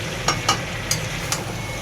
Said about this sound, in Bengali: আলু অ্যাড করে দিয়ে নেড়ে দিলাম।